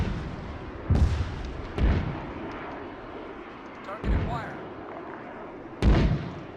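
In the Arma 3 video game, heavy mortar impacts and explosions thud out four times at irregular intervals, each a loud booming burst with a rumbling tail, over a continuous low battlefield background.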